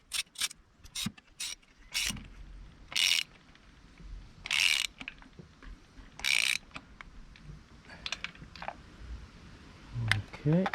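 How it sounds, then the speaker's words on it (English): A new spark plug being tightened by hand on a Peugeot 107 gives a series of short, close ratchet clicks in irregular bursts, some louder than others, with a quiet background in between. "start to do up my spark plug"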